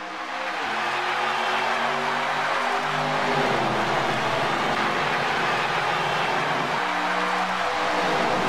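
A field of race cars at night under the lights at Daytona roars off at the start, a loud, steady engine drone whose pitch climbs and shifts as the pack accelerates away.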